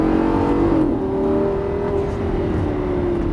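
A Lamborghini Gallardo with 530 hp accelerates on a race track, its engine note rising steadily in a continuous, moderately loud whine and roar after a brief shift.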